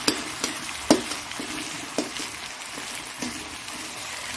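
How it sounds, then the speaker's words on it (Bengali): Tomato curry with prawns and taro frying in a pan as it is stirred and mashed, a few spaced scraping knocks over a steady close sizzle. "রান্নাটা মিশিয়ে দেবো পুরো।"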